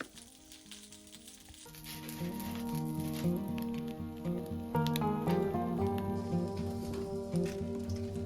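Bacon and a blue egg sizzle steadily in a pan, a continuous crackling fry that grows louder and fuller partway through, with light spattering pops on top.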